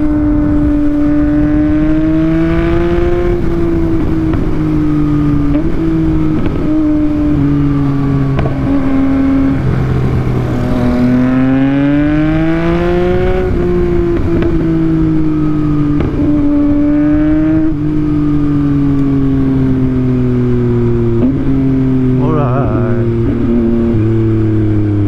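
A motorcycle on new Bridgestone Battlax T32 tires hums steadily along at cruising speed, its engine tone rising and falling gently with throttle over constant wind and road noise.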